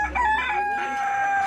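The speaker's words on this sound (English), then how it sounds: "I can smell a frightened chicken a mile off." Chickens cluck and cackle continuously at an Ethiopian market, loud and close, with overlapping squawks forming a busy, unbroken stretch of fowl noise.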